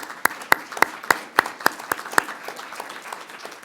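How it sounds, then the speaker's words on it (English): A few separate claps from an audience honoring students at an evening academic event, about eight sharp evenly spaced hand claps over a quiet background, then tapering off. "give a round of applause to our students who have just done a terrific job with organizing tonight's event"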